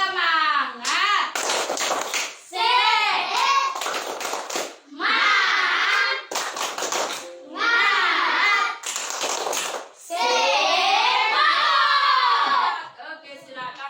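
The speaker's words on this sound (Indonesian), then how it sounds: "kita akan tepuk semangat dulu" Schoolchildren at a primary school in Alor clap out a rhythmic spirit chant in bursts of quick claps separated by short pauses, with children's voices shouting along.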